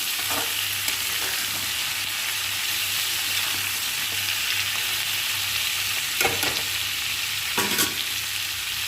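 Rohu fish and vegetables with nigella seeds and green chillies fry in a pan, giving a steady close sizzle with a low hum underneath and a few brief scraping stirs near the end.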